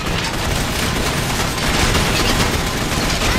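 Constant loud gunfire in the video game Gotham City Impostors fills the whole span as a dense, unbroken rattle of rapid shots and booms.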